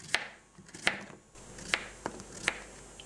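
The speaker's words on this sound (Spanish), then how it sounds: "Por último tenemos nuestro zucchini, lo vamos a cortar también en rodajitas" Knife slicing zucchini into rounds on a cutting board, five crisp evenly spaced chops about half a second apart, close and fairly quiet.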